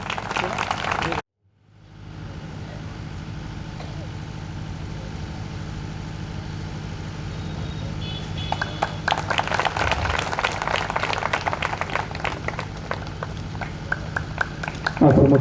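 Audience applause at a fourth anniversary ceremony swells about halfway through as dense, crowded clapping from many hands, following a sudden drop to silence and a low steady room hum, with a voice over a sound system nearby.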